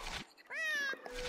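A single cat meow in Gravity Rush 2 on PS5, a rising then falling tonal cry of under a second, faint and isolated between brief soft background noise.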